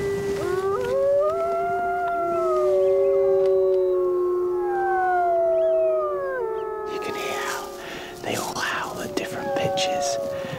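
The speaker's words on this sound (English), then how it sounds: "the new wolf to the pack will adjust the pitch of its howl to the rest of the pack" A wolf pack howls together in a snowy wilderness, several long wavering voices rising and falling at different pitches and overlapping in a sustained chorus, joined near the end by a burst of higher yelping calls.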